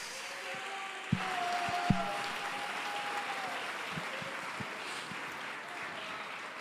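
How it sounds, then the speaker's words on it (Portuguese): A church congregation applauds during a service, steady soft clapping that fills the room at a distance with a few louder close claps standing out. "esse aplauso para o Senhor pode ser mais forte."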